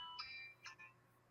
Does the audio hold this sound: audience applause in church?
no